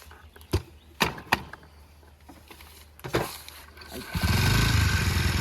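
A vehicle engine starts up after a few faint knocks and clicks, catching with a cough and settling into a loud, steady rumbling idle, with a voice speaking briefly.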